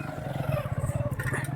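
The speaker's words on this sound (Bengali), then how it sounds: "এই যে দেখো বাইকটা আমার সামনে দিয়ে গেল" A motorbike passes close by on a quiet neighbourhood lane on a cold morning, its engine a steady, rumbling drone that stays loud for the short moment.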